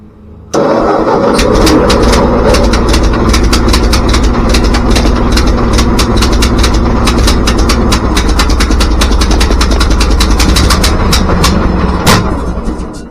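A 1947 Ford 2N tractor engine cranks and catches, then runs steadily and loudly close by, a dense rumbling idle with a rapid ticking rhythm throughout, continuing for over twelve seconds.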